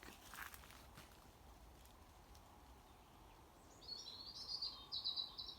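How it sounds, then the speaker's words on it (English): A bird sings a few bright, warbling phrases in the distance near the end, over quiet woodland ambience with faint rustling steps earlier. "I think that's a robin."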